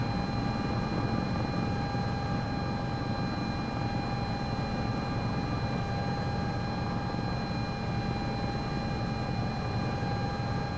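A Sikorsky S-76 helicopter hovers in the CowanSim flight simulator, giving a constant, close turbine whine with sustained high tones over a steady low rotor drone and no breaks.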